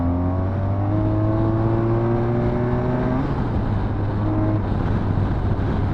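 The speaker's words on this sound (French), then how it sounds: "Là, j'ai envie de mettre un gros coup de gaz." A 2015 BMW R1200RT motorcycle engine pulls under hard throttle, a loud steady drone climbing in pitch with wind rush, then shifting and climbing again, close up and alone.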